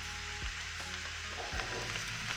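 Oyster mushrooms stir-frying in a hot pan give a steady, close hiss of sizzling oil, with a couple of brief scraping stirs breaking through.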